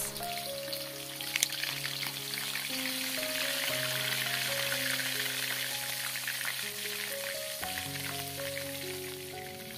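Spice paste sautéing in hot cooking oil over medium heat for a Makassar-style fish dish; a steady close crackling sizzle with light popping, accompanied by sustained background music and no talk.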